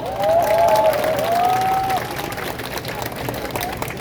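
A crowd applauds at an outdoor election campaign rally for candidate No. 2 Kim Moon-soo in Gunpo, Gyeonggi. Dense, steady clapping and crowd noise fill the clip, with a sustained tone running through the first two seconds before the applause thins slightly.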